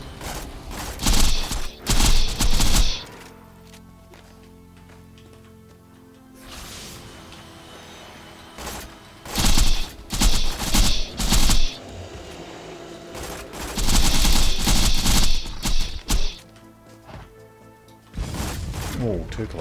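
Gunfire from the character Zer0 in the shooter game Borderlands 2, bursts of sharp shots in several clusters with mechanical clatter between, loud and near, with a voice talking over parts of it.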